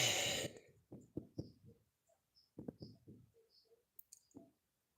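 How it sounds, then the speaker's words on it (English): Faint, scattered knocking in short bursts of a few taps each, like a woodpecker rapping on wood some distance away. "Hear that knock? That's the woodpecker coming in. He's out there knocking."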